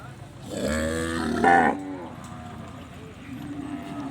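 Cattle at a livestock market in Roi Et, Thailand, giving a single loud drawn-out moo close by, followed by quieter market ambience.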